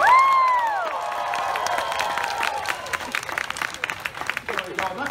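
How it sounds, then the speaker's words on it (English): A small crowd lets out a burst of high-pitched cheering and shouting, then settles into scattered, uneven clapping that thins out toward the end. "The applause."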